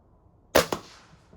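A Norica .25 caliber spring-piston air rifle fires a JTS pellet: one sharp, loud crack closely followed by a second smack, then quiet.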